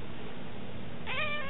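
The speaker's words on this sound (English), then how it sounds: "It's a cat!" A cat lets out a short, clear meow near the end, following a low background murmur, close and fairly loud.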